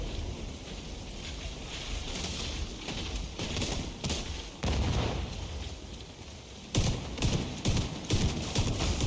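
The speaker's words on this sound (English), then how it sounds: "You have to shoot the minigun." Gunfire in The Division 2 aimed at an enemy's minigun weak point: repeated bursts of loud shots with rolling impacts, in clustered volleys with brief gaps.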